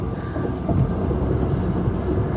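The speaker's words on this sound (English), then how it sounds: "it just sounds like tiny bits of sand, or like I'm driving through like a dust storm or something" Fine sand or grit pattering steadily on a moving vehicle, a dense rain-like hiss over a low road rumble, continuous and close throughout with no voices.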